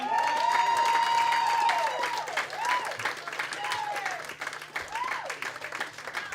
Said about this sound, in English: Y'all keep clapping, keep clapping, keep clapping